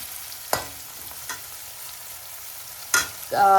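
Onion, green chilli and curry leaves fry in oil for a dal tadka, with a few brief stirring scrapes over a faint steady background before a louder burst of sizzling at the end.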